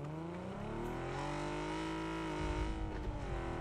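A steady, loud car engine drone in PUBG holds a constant pitch, then revs briefly near the end, sounding synthetic like game audio, with no talking.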